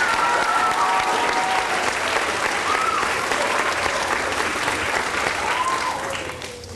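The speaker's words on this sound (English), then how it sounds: "Let's give them a round of applause too" Dense, sustained applause from an audience at a school-district Kids Voting event, honoring administrators, teachers and parents; loud and continuous, fading slightly at the very end.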